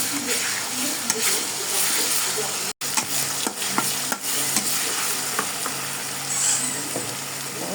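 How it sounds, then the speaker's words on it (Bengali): Garlic and ginger paste frying in oil with shrimp and winter vegetables, a loud continuous sizzle broken by repeated stirring scrapes and one brief dropout, close by with no talking. "এখন পরিমাণ মতো রসুন বাটা, পরিমাণ মতো আদা বাটা দিয়ে একটু ভেজে নেব।"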